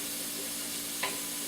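Vegetables softening in a pan for crab stuffing give a faint, steady sizzle while being stirred, with one brief scrape partway through and no talking.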